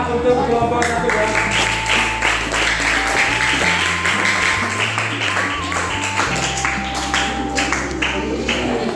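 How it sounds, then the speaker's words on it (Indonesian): Classroom applause for a student group, steady clapping that runs the whole time at moderate loudness, mixed with a continuous bed of music and tones. "tepuk tangan untuk kelompok 1 ya."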